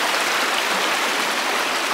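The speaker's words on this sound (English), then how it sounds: "This is a road. It sounds like a river." Floodwater rushes down a washed-out dirt road like a river during severe weather near a cabin, a loud, steady, close roar of churning water with no break.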